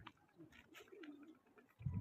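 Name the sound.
pigeons cooing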